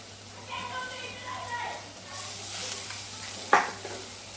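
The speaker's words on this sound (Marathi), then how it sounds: "मी त्यात आलं लसूण पेस्ट घालते" Ginger garlic paste fries in a pan with a low, soft sizzle and a sharp clink of a utensil near the end, while someone talks over it.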